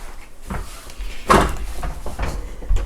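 A white American-style door swings open into a bathroom, giving one short knock or click amid quiet room noise, followed by softer handling sounds.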